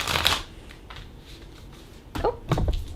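A deck of tarot or oracle cards being shuffled by hand during a card reading, with soft riffling and papery slaps that swell in two louder bursts near the end, heard close and alone.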